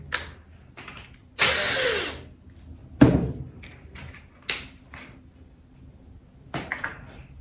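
Short bursts of a power driver or drill whir in a workshop while a part is being unscrewed, mixed with clicks and clunks of handling, a loud one-second burst followed by several brief ones.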